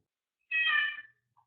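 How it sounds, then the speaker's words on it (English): A single cat's meow sounds in the background, a short clear mid-pitched call lasting about half a second, followed by a faint brief chirp and quiet around it. "You can hear the cats in the background."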